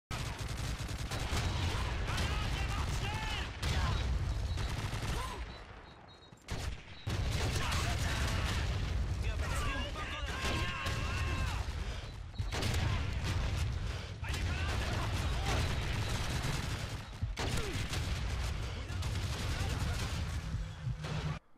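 Rapid bursts of gunfire from Call of Duty 2, a World War II shooter, crackle almost continuously with a brief lull in the middle, loud and busy, layered with other game effects and background talk.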